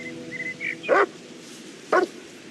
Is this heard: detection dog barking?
yes